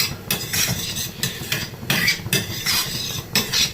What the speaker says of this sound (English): just put the flame on high and saute it